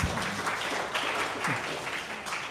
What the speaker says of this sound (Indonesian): Boleh tepuk tangan Ibu dan Bapak.